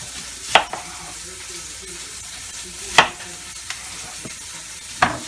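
Thick onion slices sizzling in a pan as part of making a roast, a low steady fry hiss broken by three sharp utensil knocks spaced a couple of seconds apart, no talk.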